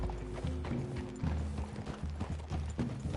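Horse hooves clip-clop at a steady walking rhythm in a Western video game, fairly close, with a low droning background.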